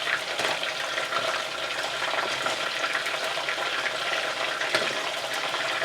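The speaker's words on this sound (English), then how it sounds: "But frying it twice gives it a little extra crispiness." Chicken pieces frying in hot oil for Chinese lemon chicken, a second fry for extra crispiness, giving a continuous dense crackle and sizzle that stays fairly even throughout.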